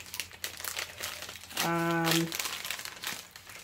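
A small packaging sticker peeled off a crystal affirmation card deck, heard as close crinkling and a brief tearing rasp, with faint talk around it.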